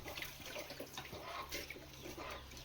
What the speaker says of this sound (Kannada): ನಲ್ಲಿ ಬರ್ತೈತ್ ನೀರು.